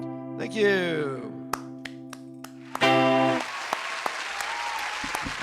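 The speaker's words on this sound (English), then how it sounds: "Almost forgot my applause there" Canned applause plays at a virtual open mic show, a brief burst of clapping with sharp snaps, alongside a synthetic tone and a voice talking over it.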